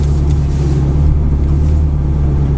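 A Ferrari 360 Modena F1 revs up while accelerating at the Mettet circuit, a steady, loud low rumble that holds throughout, close by.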